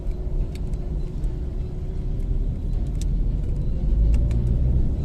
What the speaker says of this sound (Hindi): ट्राला आ गया, शायद दिल्ली का अंदर ही चल रहा है।